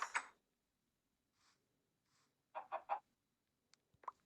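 A hen clucks in short bursts, a few quick clucks in a row with faint quieter sounds between, close and otherwise quiet.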